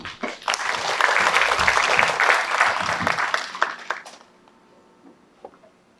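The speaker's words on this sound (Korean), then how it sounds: "박수 부탁드립니다." Audience members at a residents' briefing on apartment redevelopment give a round of applause, a dense burst of clapping that holds for about three seconds, then thins to scattered claps and near silence.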